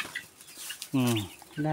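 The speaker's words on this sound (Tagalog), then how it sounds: "Meron kami dito mga pabo. Ayan po pabo namin." Turkeys give a couple of short, close gobbling calls with a wavering, throaty pitch, following a stretch of quiet rustling.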